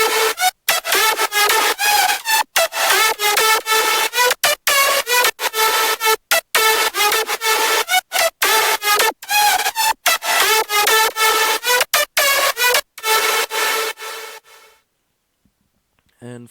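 Layered synth lead built partly on a Vital preset plays a loud, bright run of quick rhythmic notes, one after another, alone with no talk, until it fades out near the end.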